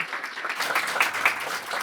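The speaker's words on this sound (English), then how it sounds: "So maybe a round of applause, if we could, for our wonderful judges." Brief applause for the judges at a three-minute thesis event, a soft wash of crowd clapping heard from a distance, holding even for under two seconds.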